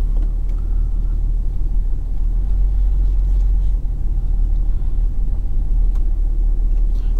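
A 2001 BMW 730d with automatic gearbox, driven on a test drive with the engine not yet at full warm temperature, gives a steady low cabin rumble of diesel engine and road noise, continuous and even throughout.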